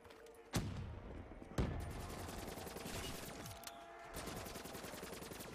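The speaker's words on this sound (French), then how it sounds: "on va lancer quelques grenades" Gunfire and explosive blasts from grenades thrown during a Call of Duty Zombies round on Zetsubou No Shima, with sharp booms near the start and dense rapid shooting continuing throughout.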